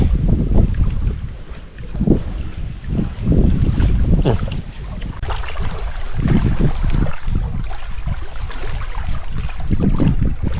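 Strong wind gusts and buffets the microphone at a lakeside fishing spot in Ban Khok Mamuang, making loud, uneven rushing and rumbling with no talking.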